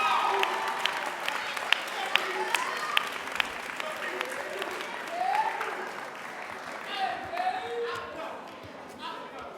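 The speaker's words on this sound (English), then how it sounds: "round of applause for our graduates" Sustained clapping from a crowd at a college commencement, applauding graduates, steady and moderately loud, with scattered voices calling out over the applause.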